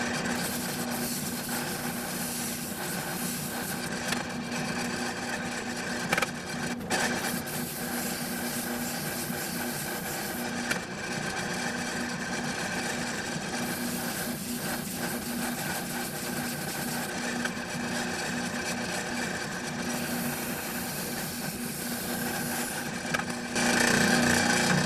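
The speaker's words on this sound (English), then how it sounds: "So I'm going to try to use the spindle sander here to open that hole up a little bit." A spindle sander enlarges a hole in a workpiece for a mini lathe chuck jaw fitting, giving a steady, continuous motor hum and abrasive rubbing that stays loud and even throughout.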